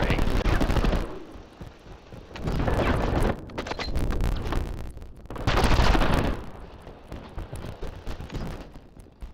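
Rapid gunfire rattles through a Call of Duty match on the Hacienda map, dense bursts of automatic shots coming in loud waves with brief lulls, occasional heavier booms mixed in.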